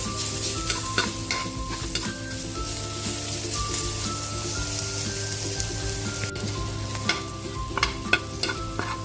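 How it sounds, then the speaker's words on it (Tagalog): Garlic sizzles and fries in a pan for a bean sprout okoy dish, with a continuous crackling hiss broken by repeated clicks and scrapes of stirring, close and moderately loud, with no voices. "Pwede na natin ilagay yung ating bawang."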